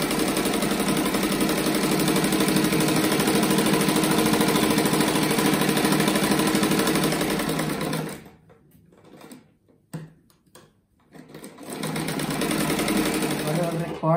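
A sewing machine stitches around the edge of a fabric rug, a steady loud mechanical whir running continuously before stopping and starting in short bursts, then resuming.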